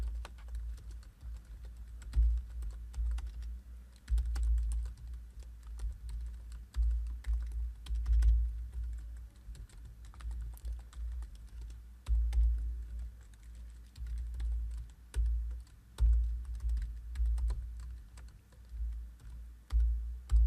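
Someone types a C program on a computer keyboard, a steady run of soft keystroke clicks in uneven bursts with brief pauses, close and alone with no talking.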